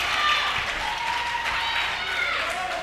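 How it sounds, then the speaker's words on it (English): A large wrestling-show crowd applauds and cheers in a dense, continuous wash of clapping and shouting, with a few voices standing out. "Listen to the crowd rallying here behind the movement."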